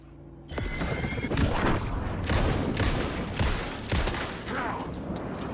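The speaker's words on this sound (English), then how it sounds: "That was 4 shots, okay." Four heavy gunshots in Alan Wake 2 crack out about a second apart, each a loud close boom with a short ringing tail, over a dense rumbling game backdrop.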